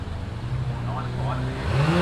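A Commodore drag car at a street-series drag meet accelerates with a steady engine roar that climbs in pitch near the end, with commentary over it.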